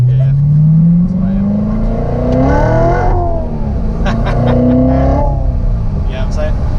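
A Chevrolet Corvette C7 Z06 engine revs up and down in rising and falling sweeps, loud and close from inside the car, with people talking over it.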